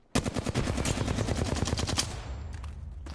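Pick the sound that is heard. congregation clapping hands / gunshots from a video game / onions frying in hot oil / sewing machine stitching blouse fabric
gunshots from a video game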